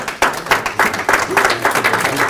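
Applause breaks out at an academic conference on Sephardic studies, loud, close clapping from the audience that starts abruptly and continues with a brisk, uneven rhythm.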